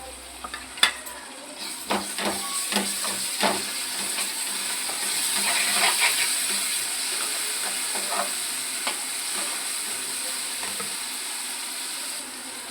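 Turmeric and spices fry in a pan for a meal maker curry, giving a steady close sizzle with repeated scraping stirs and occasional clinks, no voices.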